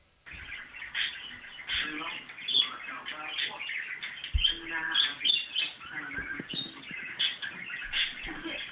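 Small birds chirp and tweet in quick, busy bursts, a close chorus of high calls carrying on throughout with no pause.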